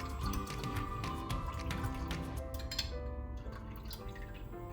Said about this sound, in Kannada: ಈಗ ಆ ಹುಳಿನ ಸ್ವಲ್ಪ ಪಾನಿಗೆ ಹಾಕೊಳ್ಳೋಣ